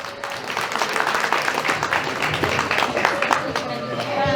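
Wedding guests in Jauja applaud at a reception as a young relative is called forward, a broad wash of clapping carrying steadily through the moment with voices mixed in.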